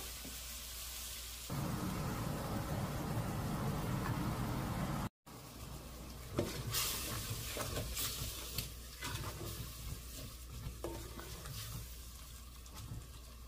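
Yogurt sizzles and bubbles in a hot pan over a medium-high flame for mutton keema biryani, a steady frying hiss broken by a brief cut, then clicks and stirring scrapes.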